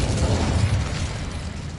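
A broad, roaring blast of the Incendio fire spell in a Hogwarts video game rushes out steadily and fairly loud, holding for almost two seconds with no voices over it.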